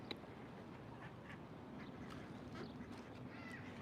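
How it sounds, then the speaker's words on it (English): Ducks quack outdoors, several of them, in faint scattered calls set against steady ambient outdoor noise, somewhat distant, with no talking. "I got all these ducks out here hanging out."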